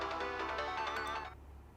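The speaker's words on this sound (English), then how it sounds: "this is a goated ringtone" A phone ringtone in the video game Steins;Gate, a bright tonal melody with a quick series of pulsing notes that plays clearly alone for just over a second, then cuts off.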